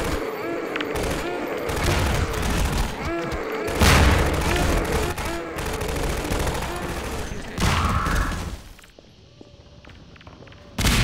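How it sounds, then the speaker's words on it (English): Grenade blasts and rolling gunfire in a Half-Life 2 firefight, dense and loud for most of the stretch, with booming impacts and a sudden drop to quieter ambience near the end. "I'm gonna just toss grenades."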